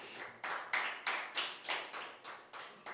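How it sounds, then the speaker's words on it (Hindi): Audience clapping at a Hindi poetry recital on a stage in Pilibanga, honouring Pratap. It comes as about ten sharp, evenly spaced bursts of fairly loud rhythmic applause with no voices over it. "प्रताप खातर तालियां"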